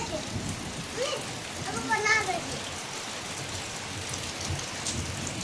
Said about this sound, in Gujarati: જોઈ લો વરસાદ.